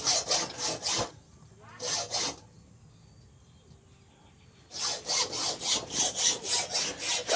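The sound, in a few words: handsaw sawing wood for a post beam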